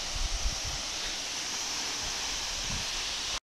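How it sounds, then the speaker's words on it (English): Mudibandha waterfall at Daringbadi, Odisha, roars as a steady broadband rush of falling water, loud and continuous throughout, with some low rumbling bursts near the start and no voices. "So finally we have reached the Mudibandha waterfall of Daringbadi."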